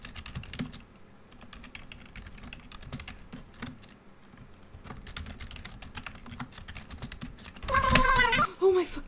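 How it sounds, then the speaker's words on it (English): Computer keyboard typing during a VRChat session, rapid irregular key clicks heard up close for several seconds, then a loud burst of shouting and other noise toward the end. "I was typing."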